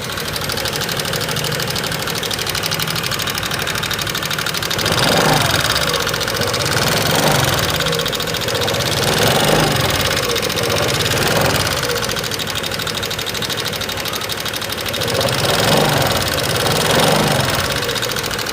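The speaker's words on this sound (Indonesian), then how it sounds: "Pada suara motor Vario 125 Fi ini terdengar suaranya gelitik ya teman-teman." A 2018 Honda Vario 125 Fi scooter engine idles steadily up close, with a fine, rapid ticking rattle running through the hum and slight swells in loudness every few seconds.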